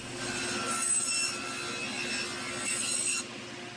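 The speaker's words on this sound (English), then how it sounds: "I'm just cleaning up the rabbet here so that it can receive the back panel." A tool scrapes and rubs along a rabbet cut in veneered walnut plywood, a close, continuous rasping stroke with two louder surges before stopping abruptly; no voices.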